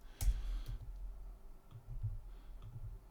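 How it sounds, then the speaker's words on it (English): Quiet mouse clicks while switching back and forth to the pen tool in drawing software, a few soft scattered taps with low room noise and no talking. "I'm just clicking back and forth to pen tool here every time I draw a segment"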